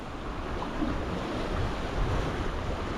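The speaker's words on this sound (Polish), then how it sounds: "Tylko wiatr jest bardzo mocny i wieje do mnie" Strong wind blows over a rough, choppy sea, a steady loud rush of wind noise and surf close to the microphone with no voices.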